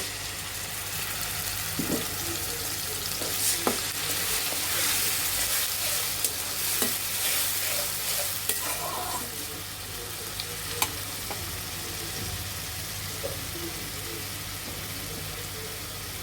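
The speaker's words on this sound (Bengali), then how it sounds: "এখন পেঁয়াজগুলো ভালোভাবে লালচে করে ভেজে নিতে হবে" Onions frying with a paste of ground ridge gourd, garlic and green chili in a pan, a steady loud sizzle with occasional stirring scrapes and clinks throughout, no talking.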